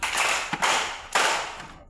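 Three sharp group hand claps from a primary school class, spaced about half a second apart, ringing briefly in a room with no talking.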